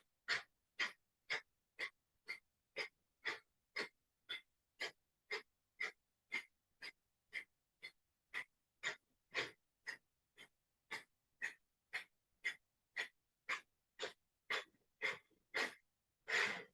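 Breath of fire yoga breathing: about thirty rapid, evenly spaced forceful exhales through the nose, close and crisp, with a longer breath at the very end.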